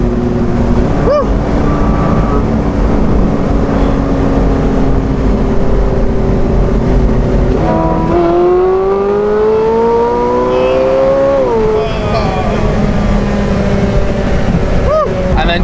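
A Porsche 918 Spyder's engine and exhaust roar loudly from just behind the cabin, rising in pitch through two accelerating pulls with a gear change between them.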